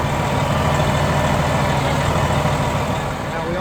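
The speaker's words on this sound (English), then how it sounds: "The truck runs and drives as it should." Engine of a 2012 Freightliner M2 112 truck with a Builtrite 1010 material handler, running at a steady, loud idle with a constant low rumble throughout.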